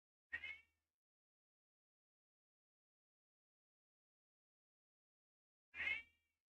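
A house cat lets out two short meows spaced several seconds apart, each clear and close, with near silence in between.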